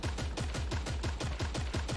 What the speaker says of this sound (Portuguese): Caraca, distribuindo tiro pra todo mundo, hein?